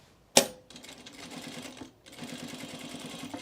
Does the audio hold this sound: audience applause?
no